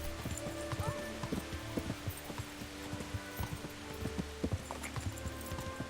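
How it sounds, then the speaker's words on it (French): Rhythmic clip-clop of a horse's hooves at a quick, steady pace in the video game Kingdom Come: Deliverance, close and clear over a faint background hum. "On appelle le cheval."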